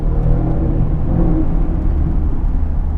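An Audi S5 engine rumbles steadily as the car passes, a deep continuous growl with a faint whirring edge and no voices.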